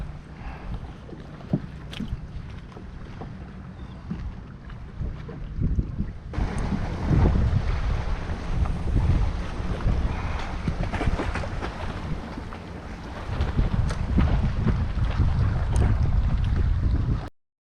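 Wind blows steadily across a fishing jetty, a loud, rumbling microphone buffet that swells stronger partway through and stays heavy to the end, with no voices.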